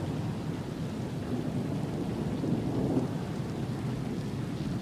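A monsoon thunderstorm with steady rain, a dense continuous wash of rainfall and low rumbling thunder, fairly loud and unbroken, with no voices.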